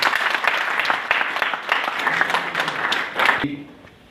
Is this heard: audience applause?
yes